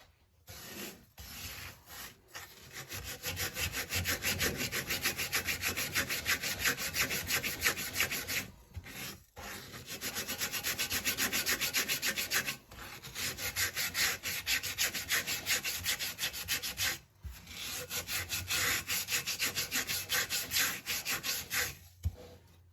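A rust spot on the side of a cast iron skillet is scrubbed in long bursts of rhythmic back-and-forth abrasive rubbing, broken by several short pauses, close and steady with no talking.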